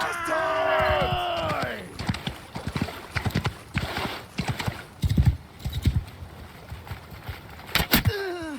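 Rhythmic hoof clip-clops in a Mount & Blade II: Bannerlord game mix, with bursts of other effects and a brief whinny-like sweep early on.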